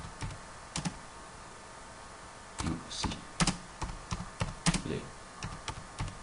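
Fingers tap out a short email message on a computer keyboard in irregular bursts of quiet, close keystrokes with pauses between, over a faint room hiss and a brief murmur of French speech.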